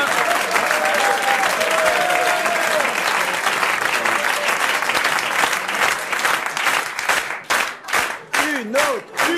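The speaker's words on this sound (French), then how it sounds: "Ces applaudissements spontanés me troublent, me perturbent." A studio audience bursts into loud, dense applause mixed with cheers, sustained for several seconds, then breaking into rhythmic clapping as a voice speaks over it.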